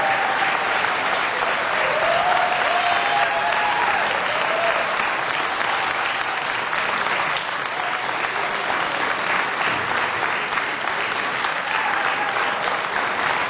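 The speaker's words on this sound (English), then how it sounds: "Take the applause, folks, please." A long, steady round of applause rolls through a budget hearing room following a vote, thick continuous clapping from many people at an even level, with faint voices mixed in.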